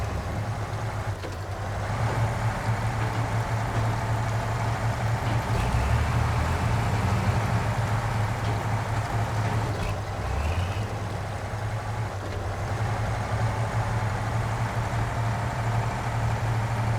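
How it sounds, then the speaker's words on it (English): A heavy truck engine in the Snowrunner video game drones steadily and loudly throughout, a deep continuous rumble under load that rises slightly in intensity midway. "I'm sure it must be the engine."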